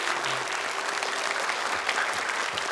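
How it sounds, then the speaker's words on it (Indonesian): An audience at an Indonesian televised hadith memorization challenge applauds, with dense, steady clapping that fills the full couple of seconds at close range. "Boleh tepuk tangan untuk kami."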